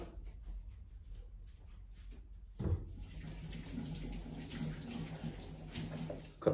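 Running tap water pours steadily as a peeled cucumber is washed in a kitchen sink, faint at first and then fuller and closer, with brief splashes and handling knocks.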